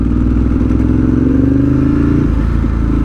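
A motorcycle with loud aftermarket exhausts revving close up, a steady, heavy rumble whose pitch climbs and then drops off near the end.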